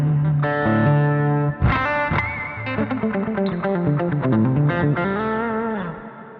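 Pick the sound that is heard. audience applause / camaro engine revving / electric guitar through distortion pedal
electric guitar through distortion pedal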